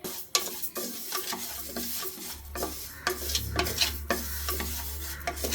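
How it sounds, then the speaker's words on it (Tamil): Raw rice and moong dal dry roasting in a pan for a Shiva Ratri prasadam, with repeated scraping stirs and light gritty rustling close by. A faint low hum runs under it, and no one speaks. "3/4 டம்ளர் பச்சை அரிசியும் 1/4 டம்ளர் பைத்தம்பருப்பும் போட்டு சும்மா ஒரு வறுத்துக்குங்க"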